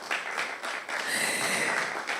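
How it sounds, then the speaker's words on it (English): Audience applause at a conference panel on smart farming technology, a short burst of clapping that dips briefly and then swells again into a fuller round. "A round of applause."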